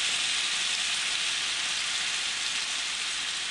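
Onions fry in a pan with a steady, dense hiss of sizzling oil that goes on without a break, close and fairly loud, no voices.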